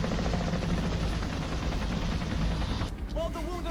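An animated helicopter from the 1988 film Akira churns loud and steady, its dense rotor roar filling most of the moment before cutting out abruptly near the end, with a brief tonal sound trailing after.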